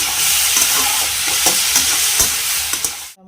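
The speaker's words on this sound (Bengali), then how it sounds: "ইচ্ছে কড়াই দিয়ে ভাজছি" Food sizzles and crackles steadily in a hot kadai (wok) as papad is fried and stirred, close and loud, with a few scraping stirs before the sound cuts off abruptly.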